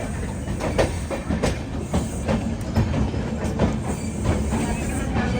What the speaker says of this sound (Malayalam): രാജ്യതലസ്ഥാനമായ ന്യൂഡൽഹിയിലേക്ക് ഇതാ ട്രെയിൻ എത്തിക്കൊണ്ടിരിക്കുകയാണ്